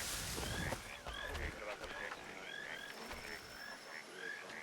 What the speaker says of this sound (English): You also hear like different types of animals now, like the frogs, for instance.